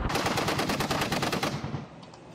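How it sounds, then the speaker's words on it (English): A .50 caliber machine gun fires a rapid, loud sustained burst at a row of watermelons, the shots hammering continuously before cutting off into a short fading echo. "here is a video clip of a guy shooting a 50 cal at a whole bunch of watermelons"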